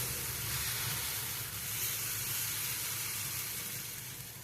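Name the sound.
chilla batter cooking in oil on a pan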